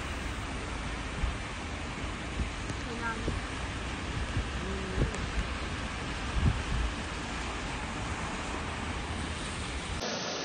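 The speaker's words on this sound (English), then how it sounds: "Heavy rainfall continues in Ankara at present." Heavy rain pours down during flooding in Ankara, Turkey, a dense, steady hiss of falling water filling the whole scene with occasional faint bumps, no voices heard.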